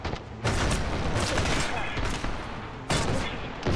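Rapid pistol fire in the video game Wars and Roses, loud dense bursts of shots that run nearly continuously with a brief pause near the end, a busy battle mix throughout.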